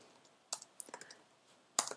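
Keys clack on a computer keyboard in a quiet room, a few sparse, irregular taps with two louder strikes, close and alone.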